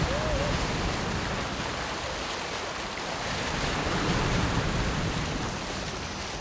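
Sea waves wash against the shore of Sasudo, an uninhabited island south of Chujado, Korea, at high tide, a steady loud roar of surf with wind and no pauses.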